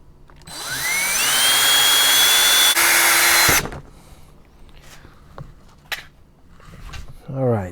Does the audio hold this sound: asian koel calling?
no